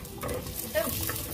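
Green chili, ginger and garlic frying in a pan for a fish curry, giving a brief, dense sizzle with spoon-stirring scrapes, close and fairly steady, and no speech.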